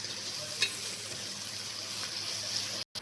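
Ginger garlic paste is stirred into onions frying in a pan, giving a soft continuous sizzle with a faint scrape of the spoon, and no voices.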